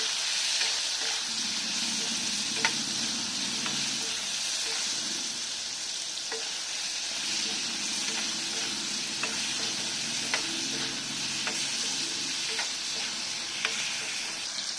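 Dal simmering with turmeric and salt sizzles steadily in a pan over a high flame while a spoon stirs it, scraping with soft periodic clicks throughout; close and continuous, with no talking.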